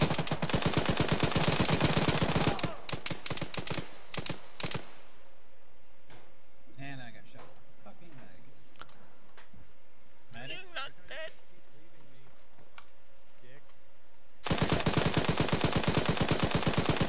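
Automatic gun emplacement in a video game firing bursts of loud, rapid shots at the start and end, with quieter game sounds and players talking in between.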